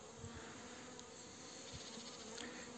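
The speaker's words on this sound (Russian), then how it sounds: "Но, тем не менее, пчелки летают." Honey bees fly around hives at a forest apiary in early spring, a faint, continuous buzzing hum with small rises as individual bees pass close, no talk.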